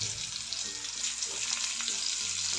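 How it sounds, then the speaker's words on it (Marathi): Pomfret fish frying in a pan. A dense, even hiss of hot oil crackles continuously and close, with faint low clinks underneath. "हे एक साइड आपल्याला 5 मिनिटं तरी अशी फ्राय करून घ्यायची आहे."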